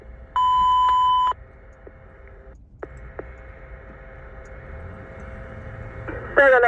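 Fire dispatch alert tones announcing a third alarm for an FDNY box at a major fire in three private dwellings, Bronx: a loud steady tone about a second long, then scattered clicks and a faint hum, ending with a short burst of rapid beeps.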